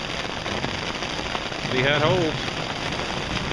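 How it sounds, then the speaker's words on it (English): Rain patters steadily on a tarp with a pullout during a camping shelter test, a continuous close hiss with a person speaking briefly over it. "I guess you can hear the rain starting to come down again"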